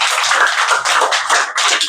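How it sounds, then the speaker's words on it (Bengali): An audience claps for a prize winner at a computer-education prize-giving, a close, dense burst of many hands slapping irregularly for about two seconds with no voices. "সবাই একটু হাততালি দাও।"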